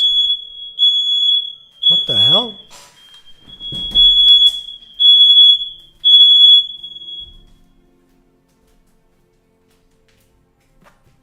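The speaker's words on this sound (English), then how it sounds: "That's the fire alarm." A smoke-triggered fire alarm in a home, set off by bacon cooking, shrills loudly in repeated piercing beeps over several seconds, with a startled voice and other speech breaking in before it is muted and goes quiet.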